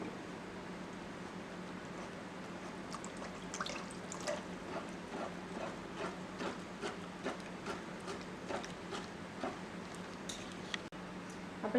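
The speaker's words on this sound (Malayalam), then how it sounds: "ഞാൻ നന്നായി വിസ്ക് വെച്ചിട്ട് മിക്സ് ചെയ്ത് കൊടുത്തിട്ടുണ്ട്" A mango frooti drink mixture is whisked, giving a long run of quiet, fairly even clinks and liquid swishes at close range with a low steady hum underneath.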